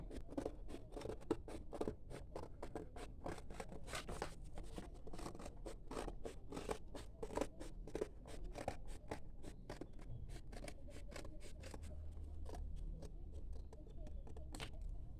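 Scissors snip through paper to cut out a circle template, a quiet run of rapid, crisp cuts and scrapes close by, with no talk.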